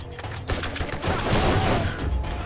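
Rapid rifle gunfire from the Borderlands shooter game rattles steadily through the moment, dense and continuous over busy battle noise, with a voice talking faintly underneath.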